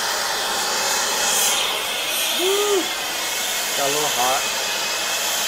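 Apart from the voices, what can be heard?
torch heating a pipe joint for brazing with sil-fos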